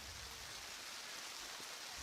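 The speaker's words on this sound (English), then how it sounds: "As the rain gets harder here in Shelby." Heavy rain pours steadily over an outdoor district final softball field in Shelby, a dense, even wash of hiss with no voices, continuous at a moderate level throughout.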